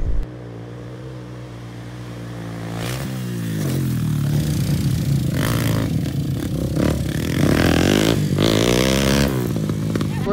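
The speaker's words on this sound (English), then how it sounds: "We're drag racing a 400 versus 400" Two 400-class off-road machines drag race at an off-road park. Their engines rev hard and build in pitch and loudness as they accelerate together, close and continuous, with some clatter.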